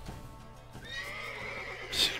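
A horse in The Witcher 3: Blood and Wine whinnies with a rising, drawn-out neigh, close and fairly loud, with soft hoof clip-clop and outdoor ambience beneath.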